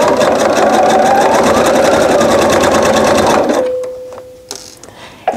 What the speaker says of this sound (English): So I'm just going to go ahead and get started. I'm going straight line right down the middle of this column of blocks.